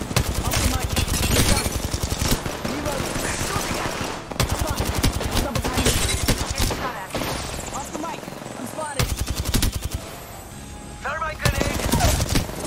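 Apex Legends gunfire crackles in dense, rapid automatic bursts with a few brief pauses, loud and close, mixed with the clatter of game action, and voices talk over it.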